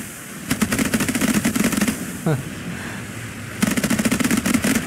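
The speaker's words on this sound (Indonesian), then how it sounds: "Tembak guys, let's go. Ledak semua guys." Rapid automatic gunfire bursts from the naval combat video game Age of Water, two loud rattling volleys separated by a quieter stretch with a brief rising tone, over a low rumbling game background.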